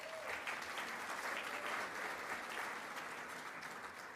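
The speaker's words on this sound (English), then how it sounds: "let's give a round of applause for the incredible board and staff for their leadership" A luncheon audience gives a round of applause, steady dense clapping from a large room at moderate distance, continuing evenly and easing slightly toward the end.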